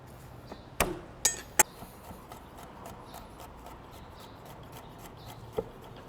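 A knife mincing smashed garlic cloves on a cutting board, with a few sharp, quiet chops close by, then sparse lighter taps.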